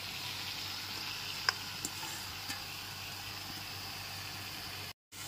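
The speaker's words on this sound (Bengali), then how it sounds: "সমস্ত ম্যারিনেট করা মটনটা দিয়ে দিচ্ছি।" Yogurt-marinated mutton sizzles steadily in a hot pan over a high gas flame for a Bengali mutton curry, a continuous broad hiss with a few faint clinks, briefly cut off near the end.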